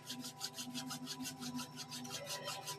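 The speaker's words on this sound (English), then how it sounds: "bringing that into the palms of your hand and rubbing them together." Palms of the hands rub together in steady, even strokes, a soft close swishing rhythm repeated for a few seconds in a quiet room with no speech.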